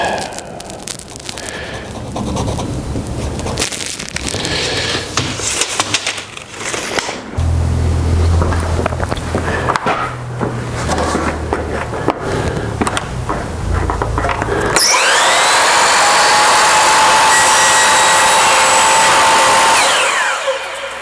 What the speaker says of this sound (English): Okay, so now I'm just making my cut for the remainder of the top piece.